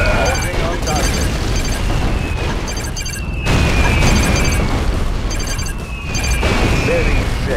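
Airship bombing in Red Alert 2: Yuri's Revenge on the Zedona Pass map, with loud, continuous rumbling explosions that swell in waves, and a whistling tone recurring above the booming.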